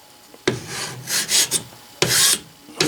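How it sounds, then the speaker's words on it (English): A rasp files a hardwood hammer handle on a workbench in a few separate rough scraping strokes, close and dry, each stroke a short gritty rasp with pauses between. "But taking a rasp, you can just do it on the workbench if there isn't very much"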